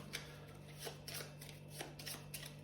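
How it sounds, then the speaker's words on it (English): A deck of cards is riffled and shuffled in quick, soft fluttering bursts during a Time Troopers board game, faint and close, over a low steady electrical hum. "we'll shuffle the discard pile"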